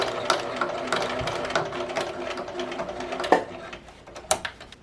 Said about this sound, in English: I'm going to backstitch just to secure it in place.